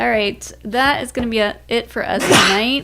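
A single loud, close sneeze bursts out near the end, right after a person finishes speaking.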